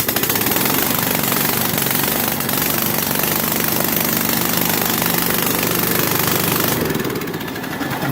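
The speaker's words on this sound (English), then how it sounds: "But it runs and fires up and pumps air like crazy. So it's going to get noisy. I'm going to fire it up for you real quick." An air compressor from a Craigslist purchase starts up and runs at full tilt, making a loud, steady, broadband mechanical roar with a pumping rumble that fills the whole clip and eases slightly near the end.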